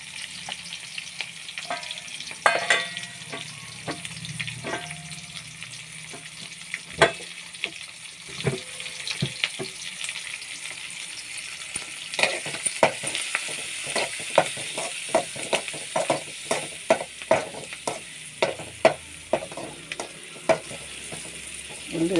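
Onions sizzle and fry in a pan with turmeric, a steady close hiss broken by frequent sharp crackles and spatters and occasional clinks of stirring, with no one talking.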